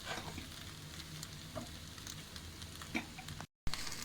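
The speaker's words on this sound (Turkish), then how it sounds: "Salça da biraz kavrulduktan sonra kokusu çıktıktan sonra diye şöyle patlıcanlarımızı bırak." Eggplants go into tomato paste frying in oil in a pan for a meat and vegetable türlü stew, giving a steady, close, low sizzle that runs unbroken apart from a momentary cut near the end.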